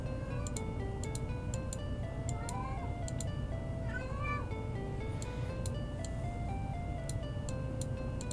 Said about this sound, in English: sounds like some cat wants outside